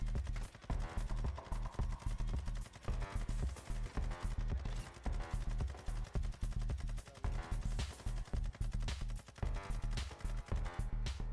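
In the DMZ video game mode, a Sakin MG83 machine gun fires at a helicopter in rapid bursts of automatic gunfire, dense and rhythmic, continuing almost without pause over a low engine drone.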